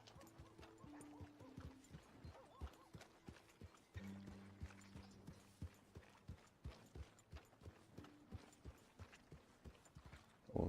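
Horse hooves clip-clop in a steady, even rhythm while riding in Red Dead Redemption 2, close and clear, with a short pause and occasional low tonal game sounds underneath and no talk.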